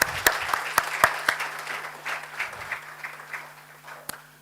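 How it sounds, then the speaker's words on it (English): A seminar crowd applauding, scattered sharp claps building into a round of clapping that gradually thins and fades out. "A round of applause again, please, for the MEC and the Premier."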